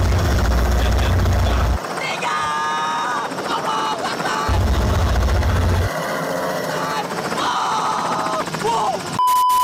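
A military helicopter thuds in two loud, low, rotor-heavy bursts during an Indonesian army display, with people talking and reacting over it.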